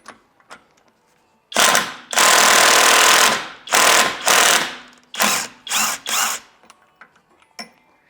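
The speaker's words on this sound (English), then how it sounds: "Now I'm gonna rip her off with my impact" Impact wrench hammering loose the axle nut on a BMW E30, several loud close bursts of rattling impacts, one long burst followed by shorter ones, then quiet.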